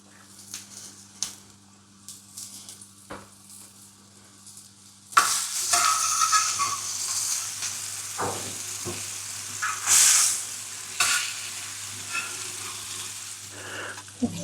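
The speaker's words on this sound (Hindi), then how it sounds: "कबाब डालने के बाद थोड़ा सा घी आप ऐड करते जाइए।" Mutton galawati kebabs fry in ghee in a pan, starting with quiet kitchen handling and then bursting into a loud, steady sizzle with crackling and occasional stirring scrapes.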